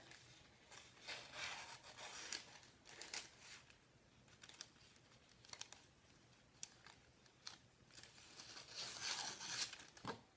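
Paper being trimmed away from wax-paper-wrapped card stock during shaker card making, heard as a series of close, quiet snips and crinkles spread unevenly across the stretch with no talking.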